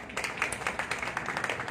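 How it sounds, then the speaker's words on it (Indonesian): Applause from a group of church members joining a Christmas service over Zoom for the honoured mothers, with steady overlapping claps, slightly muffled and compressed as if through a call. "Tepuk tangan dong kita untuk mereka ini."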